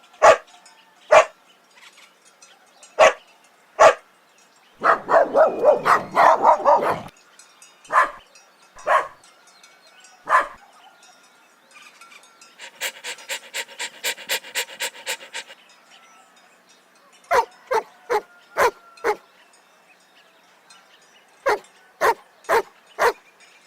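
A dog gives sharp, single barks spaced through the clip, with bursts of quick, rhythmic panting between them, loud and close, with no voices.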